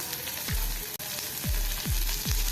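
Sliced onions and green chillies sizzle in a pan for Indori poha, a steady close frying hiss broken by a few low scraping thuds of stirring, with no voices.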